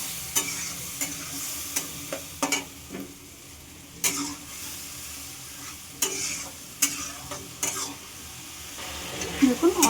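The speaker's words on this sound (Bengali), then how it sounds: "এবার এটার সঙ্গে ভাজা হতে থাকবে।" Onion, green chilli, ginger, garlic and a half tomato fry in a pan with a soft background sizzle, broken by a series of sharp spatula scrapes and taps on the pan every second or so.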